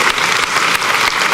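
A church congregation breaks into dense, loud applause, many hands clapping at once in a continuous wash of sound.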